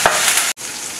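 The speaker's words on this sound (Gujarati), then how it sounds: "હવે આપણે આને ખમણની ઉપર વઘારી વેડી દેવાનું છે." Hot tempering of oil, green chilies and curry leaves poured over khaman, giving a sharp burst of loud sizzling that cuts out briefly, then continues as a softer crackle.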